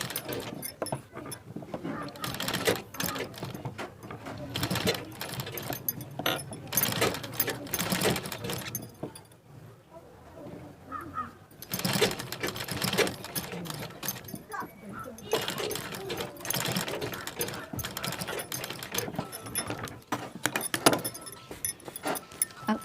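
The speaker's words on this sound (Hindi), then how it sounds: "यहाँ से यहाँ तक इस तरह से सिलाई लगा देंगे।" A sewing machine stitches a blouse sleeve with steady bursts of rapid mechanical whirring and clatter. It pauses briefly partway through, then resumes, up close, with occasional talk alongside.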